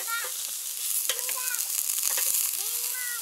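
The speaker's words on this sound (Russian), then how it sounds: "Ох, как шкварчит вкусно" Food frying in a pan at a forest campsite beside a camper gives a steady, close sizzle with scattered clinks and light stirring, and no one speaks.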